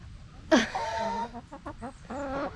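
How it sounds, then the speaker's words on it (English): A rooster gives a few short clucks and squawks nearby, a sharp call followed by quieter choppy clucking. "I think that one's a rooster."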